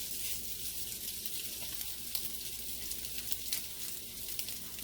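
Smoked sausage with onions sizzles in hot olive oil in a skillet, a steady bright crackle and hiss that runs unbroken at moderate volume with no voices.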